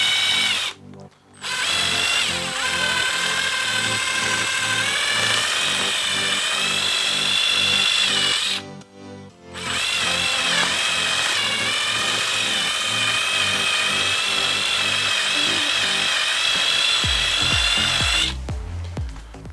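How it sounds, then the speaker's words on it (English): Power drill with a small bit boring old epoxy out of a golf club head while removing a shaft: steady, loud high-pitched whine running continuously, cut by two brief stops and a final spin-down, with no talk. "I take a little drill bit like this. I just take it in there, heat that up, and drill this out."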